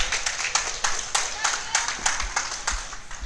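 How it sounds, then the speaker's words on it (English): Spectators at a hurling match clap for a clear, a close patter of irregular handclaps lasting a few seconds with a voice faintly underneath. "They're really applauding that clear out there."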